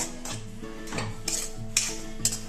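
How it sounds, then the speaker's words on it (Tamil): A spoon scrapes and clinks against a pan while cassava halwa with sugar is stirred, in steady repeated strokes with occasional sharper taps and a faint sizzle underneath. "இது நல்லா கிண்டிக்கிட்டே இருக்கணும் இப்படியே கிண்டிக்கிட்டே இருக்கணுங்க"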